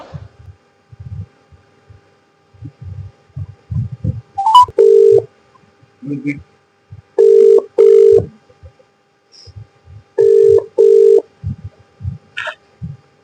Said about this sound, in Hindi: इस नंबर पे कॉल कर रही हूँ।